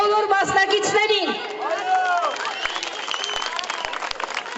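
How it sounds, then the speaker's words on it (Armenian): An audience at a cultural concert in Aparan applauds the participants. A voice speaks first, then sustained clapping from the crowd carries on steadily to the end. "Եկեք բարձր ծափողջուններով ոգևորենք բոլոր մասնակիցներին։"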